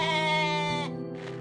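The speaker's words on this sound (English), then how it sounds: "Totally normal goat sounds." A goat in the video game OneShot gives one long, wavering bleat, loud and close, ending abruptly with a faint trailing sound.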